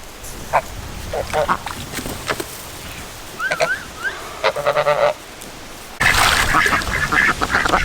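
Geese honk in a loud, irregular burst of calls close by, some overlapping, with people talking around them and a sudden louder flurry at the end.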